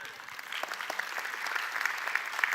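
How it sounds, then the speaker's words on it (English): An audience claps steadily through a spiritual talk, a dense, even patter of many hands at moderate loudness that keeps going without pause. "Go ahead and clap."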